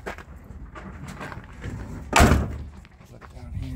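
A door on a 1985 Dodge Ramcharger 2WD is swung shut with one loud, solid slam up close, with people talking before and after.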